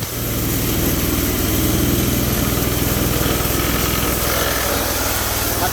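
Engine of a hydrostatic-drive machine idling cold with little hydraulic power: a loud, close, steady low rumble with an even pulsing beat that never changes pace.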